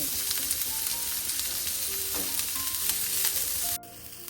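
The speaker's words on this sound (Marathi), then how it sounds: "दोन कांदे घेतलेले आहेत मी, छान लालसर रंगावर कांद्यांना परतून घ्यायचं" Onions sauté in a pan with a constant close sizzle and occasional faint stirring scrapes, the frying steady until it drops off abruptly near the end.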